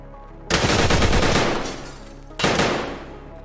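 Two bursts of gunfire from the Escape from Tarkov game in a hardcore match, loud and close: a sustained volley of rapid shots, a short pause, then a second shorter burst.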